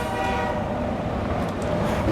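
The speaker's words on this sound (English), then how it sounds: "That is a train." A train rumbles past with a sustained horn blaring over the rolling clatter of rail cars in the In Sound Mind game, loud and close throughout.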